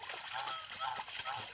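Geese run and dive into a newly built pool of clean water, giving a brief burst of splashing mixed with a faint honk.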